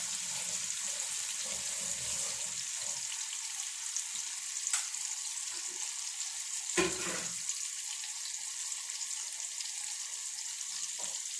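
Fish sizzles in a frying pan with a steady, even crackling hiss that runs throughout at low volume, broken only by a couple of faint clinks.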